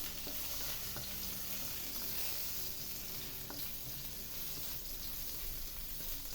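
Generous pieces of ginger sautéing in a pan for Blue Marlin tinola, a constant quiet sizzle with light stirring clicks, close and steady with no talk.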